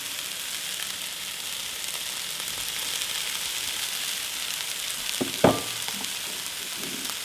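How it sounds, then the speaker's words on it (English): Softened vegetables sauté in a pan with quinoa and broccoli added, a steady, close sizzle broken near the end by a single clattering stir. "So our vegetables have been sauteing for about 5 minutes and they're now soft. We're going to add in our quinoa, our broccoli,"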